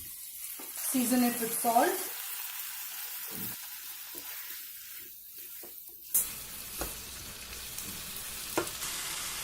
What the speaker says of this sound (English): Now we'll cook the carrots in the masala for about 2 minutes.